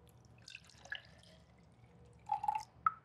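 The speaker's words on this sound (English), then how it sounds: "So let me pour that in there." Liquid poured into a container during a demonstration of mixing air temperature and humidity, heard as a few faint, brief splashes and drips with quiet gaps between them.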